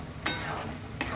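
Fish curry masala being stirred in hot oil, a soft continuous sizzle with two sharp scraping strokes of the spoon close by, no voices.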